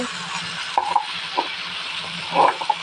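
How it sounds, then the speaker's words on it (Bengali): Okra stir-fried in a pan gives a soft continuous sizzle, with a few sharp metallic clinks and scrapes of a utensil against the pan, close up and with no talking. "আজ আমি ভেন্ডি ভাজি করতেছি।"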